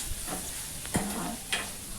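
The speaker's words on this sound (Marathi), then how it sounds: "लसूण जिऱ्याची ते टाकून छान परतून घेतलं कांदा लाल होईपर्यंत" Onion with green and red chilli, ginger paste and garlic-cumin paste sautés in a pan, giving a soft steady sizzle with a few faint scraping stirs.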